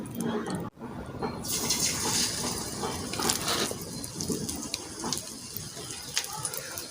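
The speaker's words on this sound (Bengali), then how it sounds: "এবার আমার তেল গরম হয়ে গেছে, মাছের জালটা একটু কমিয়ে দিয়ে এবার পকোড়াগুলো দিয়ে দিচ্ছি" Chicken pakoras hit hot oil in a kitchen pan, setting off a steady, fairly loud frying sizzle that hisses continuously with small crackles.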